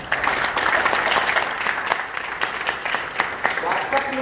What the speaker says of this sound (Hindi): बार जोरदार तालियां बजाओ।